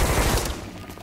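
A loud, dense burst of film shootout gunfire, several overlapping shots from the Reservoir Dogs escape scene, fading quickly within about a second.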